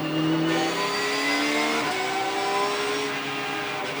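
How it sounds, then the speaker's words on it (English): An onboard GT race car engine, a Porsche giving way to a BMW at Zandvoort's ADAC GT Masters race, roars loud and close, holding a steady high whine with rising pitch sweeps as it accelerates. "illustrating the different sounds that the cars make. You go from the Porsche noise to the BMW engine."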